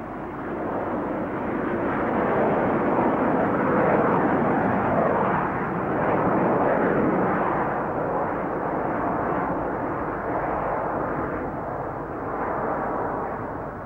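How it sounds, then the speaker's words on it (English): A red-painted BAe Hawk two-seat jet of the Red Arrows aerobatic team in 1983 flying past, giving a steady, loud roar that swells and fades gently, with no voices. "The nine team pilots fly the red-painted Hawk, a two-seat aeroplane designed by British Aerospace as a ground attack fighter and as a fast jet"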